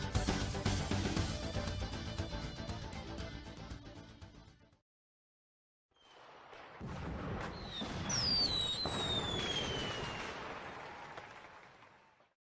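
Bursts of explosions in the Bomb Barge minigame of the video game Mario Party 9, dense crackling blasts, then a brief silence, then more booms with rising whistling effects over game music.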